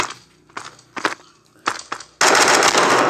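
Gunfire in the mobile shooter game Modern Ops: several short, separate shots, then a sustained loud burst of automatic fire at the end, with no voices.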